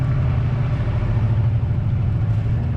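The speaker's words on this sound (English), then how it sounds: "Happy to be a boatie, even with the motor going." A sailboat's motor rumbles steadily and low out on open water, a continuous close engine drone with no pauses or talk.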